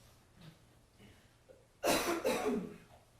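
Two loud, harsh coughs in quick succession, close by, after a few quiet breaths, during a courtroom trial.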